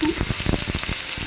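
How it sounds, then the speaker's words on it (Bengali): Onions frying in a pan with cardamom, cloves and cinnamon for an egg curry, a steady close sizzle broken by the scrape and clatter of a spoon stirring. "এবার আমি একটু নাড়িয়ে চাড়িয়ে পেঁয়াজটা ভেজে নেবো কিছুক্ষণ"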